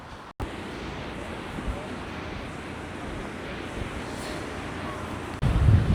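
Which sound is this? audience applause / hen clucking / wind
wind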